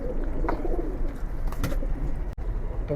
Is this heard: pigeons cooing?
yes